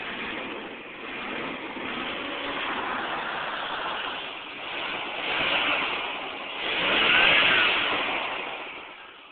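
A 1968 International Scout 800A engine with custom dual exhaust and Dynamax mufflers idles steadily with a throaty, slightly loping exhaust rumble, swelling slightly twice as if briefly revved, with no talking.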